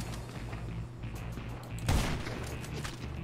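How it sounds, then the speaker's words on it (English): Gunfire in Grand Theft Auto V Online during a salvage contact mission: a busy, muffled crackle of distant shots under constant game noise, with one louder close burst midway. "Uh oh, a lot of shots."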